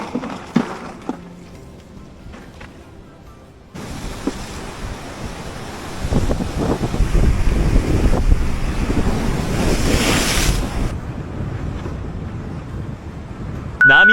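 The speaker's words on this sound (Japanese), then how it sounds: "波がちょっと大きいな。" Sea waves roll in on a rocky island shore thick with seaweed, a continuous rushing surf that swells louder midway, with wind buffeting the microphone and no talk.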